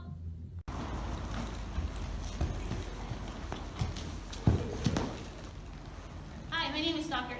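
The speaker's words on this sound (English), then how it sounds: "this is my horse, Lily." A horse walks with hooves clip-clopping at a moderate pace over a steady outdoor background, with a few sharper knocks and a voice rising briefly near the end.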